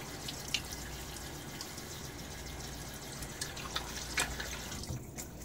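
Water runs from a tap into a sink for rinsing after a shave with a Rockwell 6S razor, a soft steady splashing flow with a few faint drips and clinks, quiet and without speech.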